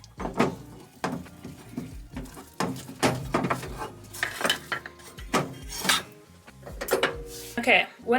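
Bread paste stirred in a pot over medium heat, with repeated scraping and clinking knocks of a utensil against the pot at an irregular rhythm, close and fairly loud, under music or voices.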